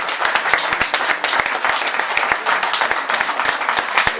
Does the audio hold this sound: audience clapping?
yes